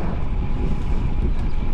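A crosswind roars across the microphone during a bicycle ride, a constant, loud, low buffeting rush with no voices.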